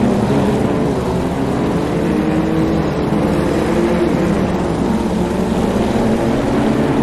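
BMW M2 CS race cars roar continuously at the Nürburgring circuit, a dense, loud blend of engines at racing speed with no talk.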